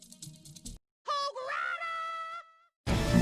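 A long, strained male yell from the Hog Rider in the Clash Royale video game rises and wavers for over a second, set between short bursts of other sound.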